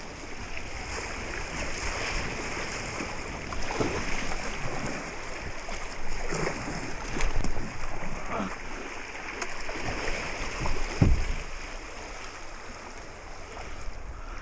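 Kayak running rapids on Black Earth Creek, with steady rushing water, paddle splashes and a few louder sloshing bursts up close, continuous throughout.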